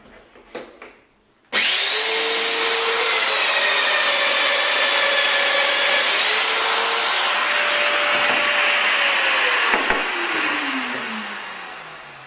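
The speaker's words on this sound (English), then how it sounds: "I now do the opposite cut on my next piece of timber." Festool Domino DF 500 Q joiner cutting into timber, a loud steady high-pitched motor whine that starts abruptly, holds for about eight seconds with pitch shifts as it plunges, then winds down.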